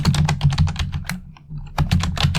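Rapid clicky mechanical keyboard typing, close and steady, with a brief pause midway before the keystrokes resume.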